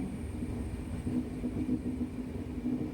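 A diesel-hauled passenger express train rolls into Mangalore Central station, a low steady rumble with a faint hum from the carriages, moderately quiet and continuous with no talk.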